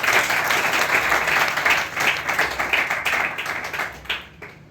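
An audience at a company event in Hanumangarh, Rajasthan, bursts into strong applause for the company's CMD, Joshi ji. The dense clapping holds steady for several seconds, then thins out toward the end.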